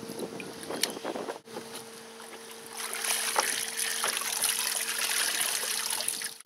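Water drains from a hot tub while a pump runs with a steady tonal hum, under gurgling and trickling water that grows louder partway through, heard close with no talking.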